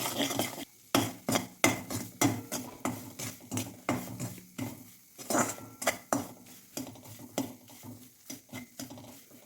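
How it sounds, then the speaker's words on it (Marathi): Fine semolina roasting in hot ghee in a pan, stirred with a spoon in steady repeated scrapes and clinks against the metal, with a soft sizzle underneath, close and alone without talk. "आता या तुपामध्ये मी टाकून घेते चार चमच बारीक रवा तूप गरम आहे त्यामुळे पटकन असा फ्राय होतो"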